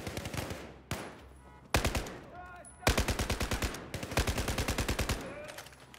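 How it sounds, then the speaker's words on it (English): Battlefield 4 gunfire on PC, several loud bursts of rapid automatic shots separated by short gaps, close and punchy, with brief voices between bursts. "Watch out. I'm firing."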